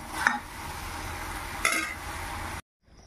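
Food frying in a pan and being stirred, a continuous sizzle with two sharp utensil scrapes against the pan before the sound cuts off abruptly into near silence.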